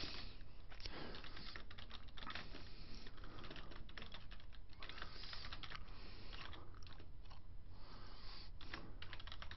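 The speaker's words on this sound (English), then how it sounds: "I'll just type in cool after it" Rapid typing on a computer keyboard, with quick runs of light key clicks throughout that sound muffled and fairly quiet, and no one speaking.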